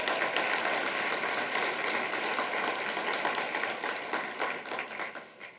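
An audience at a business procurement event applauds steadily and loudly, a dense wash of clapping that holds for several seconds and then begins to taper off at the end.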